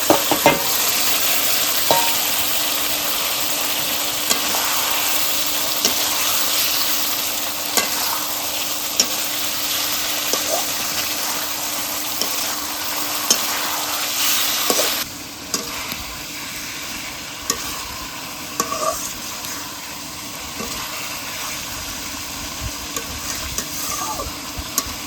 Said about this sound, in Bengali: এখন এই যে ভাজা পটলগুলো আছে সেইগুলো দিয়ে আবার ভালো করে কষা করে নেব